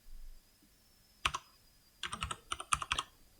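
Typing on a computer keyboard to enter a layer name in painting software: one isolated keystroke, then a quick cluster of crisp, close key taps over a quiet background with a faint whine.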